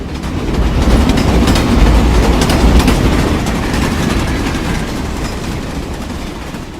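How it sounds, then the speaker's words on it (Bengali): A train races past and pulls away at high speed, a loud continuous rumble of wheels and carriages with faint rhythmic clatter that slowly eases off as it recedes. "দুরন্ত গতিতে ট্রেন যেন আমার চেষ্টাকে উপহাস করতে করতে বেরিয়ে গেল।"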